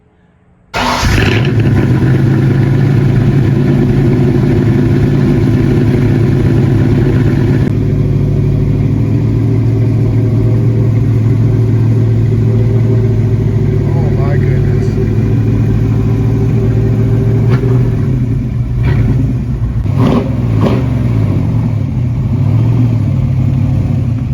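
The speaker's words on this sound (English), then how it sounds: "They want to hear the rumble." A 1966 Ford Mustang Fastback fires up after a brief quiet moment and settles into a loud, close, deep rumbling idle that holds steady, with a few blips of revving toward the end.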